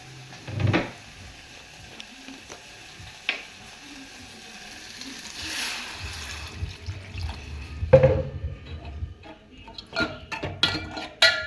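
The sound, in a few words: water being poured into a cooking pot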